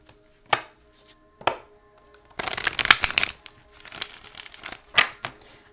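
Tarot cards are shuffled in crisp riffling bursts, first two short flicks and then a long dense run with more flicks after, close and clear with no talk.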